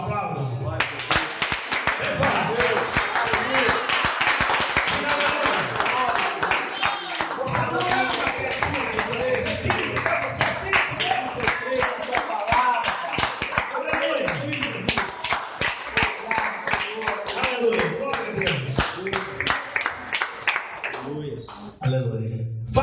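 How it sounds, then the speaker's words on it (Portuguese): Church congregation clapping steadily for over twenty seconds, loud and close, a dense sustained applause with a preacher's voice and shouts mixed in before it fades out. "Então aplaudam."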